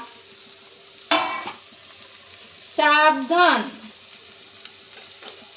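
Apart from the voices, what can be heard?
rice frying in pan with garlic, stirred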